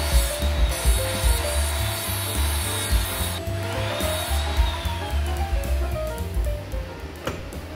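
Steady rasping saw strokes cutting strips of wood for box hinges, a rhythmic back-and-forth scrape with a brief high whine partway through, close and continuous.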